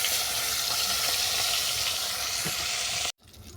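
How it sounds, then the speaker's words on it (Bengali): Fish sizzling in hot oil after being turned to brown the other side: a dense, loud, continuous crackle up close, cutting off abruptly near the end, with no voices. "এক পিঠ ভাজা হয়ে গেছে অপর পিঠটাকে উল্টে দিলাম"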